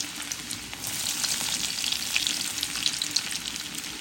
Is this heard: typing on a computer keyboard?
no